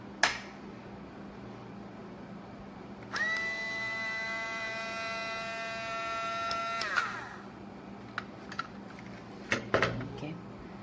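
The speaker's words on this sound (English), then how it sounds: "Now we can connect and check if the motor is rotating or not." A mini sewing machine motor, just repaired after jamming, whirs steadily for about four seconds with a bright harmonic whine before cutting off, followed by a few faint clicks and handling taps.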